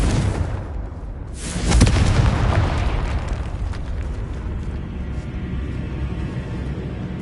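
Confringo fire spell from Hogwarts Legacy bursting in a loud, booming explosion that swells quickly and then rumbles away in a long, fading roar.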